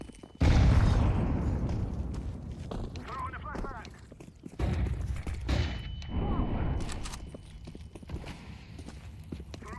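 Flashbang and grenade blasts go off in Counter-Strike 2, two loud bursts a few seconds apart that each decay into a rumbling tail, with game noise and a voice mixed in.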